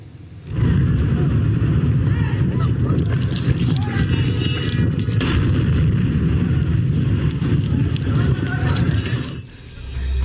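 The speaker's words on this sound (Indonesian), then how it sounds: "Ledakan terdengar di Doha, Qatar." Airstrike explosions in Doha, Qatar: a dense, loud rumbling roar of blasts and booming that continues steadily for several seconds, with crackling debris-like texture, then drops away near the end.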